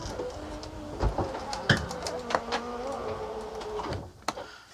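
A Class A RV slide-out motor on a Freightliner XC chassis strains to retract a stuck slide, giving a steady electric whine with a few sharp clunks and knocks as it labors over a hump.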